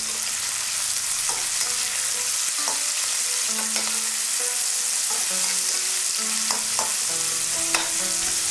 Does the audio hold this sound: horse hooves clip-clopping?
no